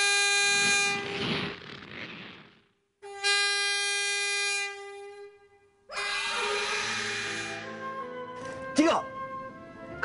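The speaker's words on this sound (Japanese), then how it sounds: "ジュークさん、警笛を鳴らして。" A train horn of an Enoden train sounds in long sustained blasts, separated by short gaps, with a final blast joined by background noise and a brief voice.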